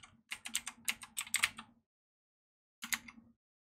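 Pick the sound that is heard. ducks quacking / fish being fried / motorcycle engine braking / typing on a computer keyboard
typing on a computer keyboard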